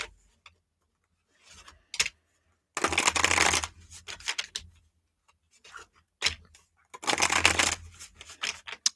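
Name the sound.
shuffling cards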